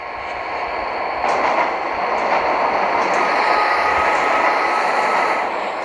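A subway train in a train-driving video game runs steadily with a broad rumbling roar and faint rail noise, continuous and fairly loud throughout.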